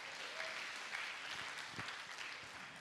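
Audience applause in a campus hall during a finance talk, a steady, fairly faint wash of clapping lasting a few seconds without speech.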